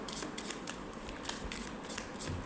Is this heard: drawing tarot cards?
yes